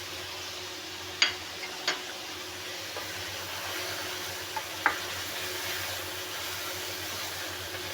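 Spices are tipped into meat frying in a pot for aloo gosht, bringing a soft continuous sizzle with a few sharp clinks of a spoon against the pot, close and fairly quiet.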